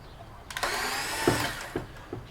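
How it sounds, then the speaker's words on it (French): An electric screwdriver working a fastener on a BMW F900 GSA motorcycle, a short whirring buzz that rises then stops, followed by a few light clicks and taps nearby. "On y va au tournevis électrique."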